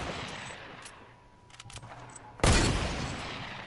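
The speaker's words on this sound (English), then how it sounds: "Stop shooting." Gunfire in the Fortnite video game rings out over a dense background wash, with a sharp loud burst near the middle that then sustains as continuous rattling.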